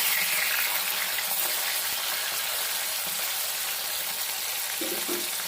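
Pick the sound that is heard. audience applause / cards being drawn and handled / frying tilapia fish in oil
frying tilapia fish in oil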